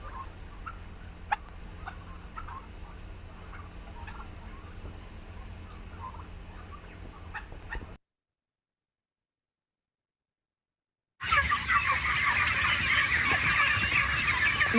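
A flock of turkeys in a barn, a dense near chorus of soft gobbles, clucks and chirps, cut by several seconds of silence, then returning louder and brighter.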